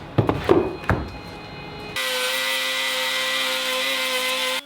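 A circular saw runs along an MDF straight-edge jig to cut plywood. A few knocks and handling sounds come first, then a loud, steady whining buzz holds to the end.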